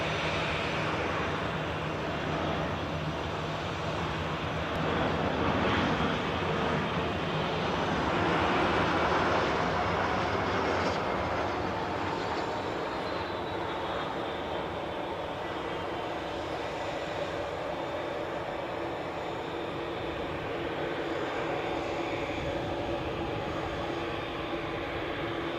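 A Qatar Airways Boeing 787 Dreamliner at Edinburgh airport produces a continuous broad jet roar that swells slightly midway and holds steady, heard from moderate distance with no voices.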